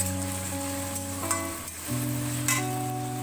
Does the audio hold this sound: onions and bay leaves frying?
yes